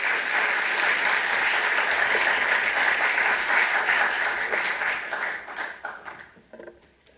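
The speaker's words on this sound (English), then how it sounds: "So please, with a round of applause" An audience at a startup demo day gives sustained, full applause that holds steady for several seconds, then thins into scattered claps and fades out.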